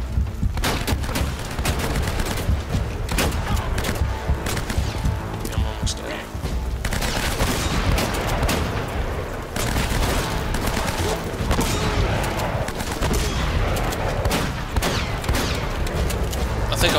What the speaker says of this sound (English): Basically just wait for him to stop shooting.